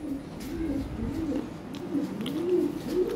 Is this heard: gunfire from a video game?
no